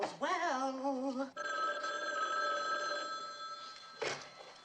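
An old-fashioned telephone bell rings in a home, one loud ring followed by a long fading ring tone and a brief second burst, with no talking.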